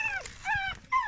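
A dog whimpers in three high, wavering cries with short gaps between them, close by, with no talking.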